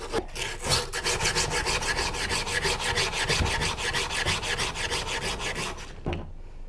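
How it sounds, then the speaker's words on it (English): A metal surface is scraped to remove its dull oxide layer, producing steady, rapid back-and-forth rasping strokes, close and loud, in an even rhythm that runs for several seconds before stopping abruptly. "When we scrape this thin oxide layer, the oxide layer gets scraped off."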